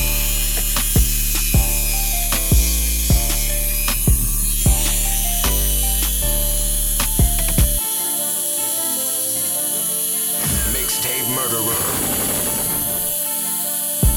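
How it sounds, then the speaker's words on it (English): A Dremel rotary tool works on the toe cap of a Jordan Infrared 6 shoe, whining steadily at high pitch close by, broken by a series of regular clicks early on, then continuing as a rough grinding whir without talk. "The Dremel is all about precision."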